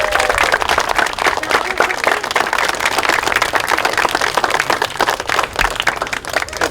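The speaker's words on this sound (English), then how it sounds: "So give yourself a round of applause." An elementary school audience claps at a ceremony, a dense, steady round of applause from many hands that is loud and close and sustained throughout with no pauses.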